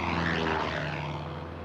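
Propeller airplane engine from an old 16mm educational film: a steady, loud droning hum with a low throbbing tone, continuous and alone across the short stretch.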